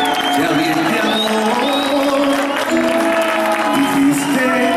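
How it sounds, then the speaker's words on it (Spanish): Concert audience applauding and cheering at a show, a steady dense wash of crowd noise holding at constant loudness, mixed with music and singing. "aplaude fuerte, carajo"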